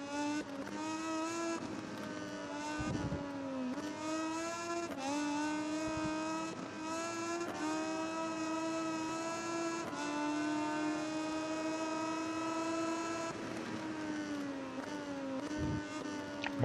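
Moto2 racing motorcycles in the video game MotoGP 19 scream continuously at high revs, harmonic engine tones rising and falling through gear shifts over about seventeen seconds, loud and steady with no talking.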